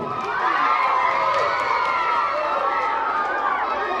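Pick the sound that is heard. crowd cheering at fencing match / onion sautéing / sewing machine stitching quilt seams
crowd cheering at fencing match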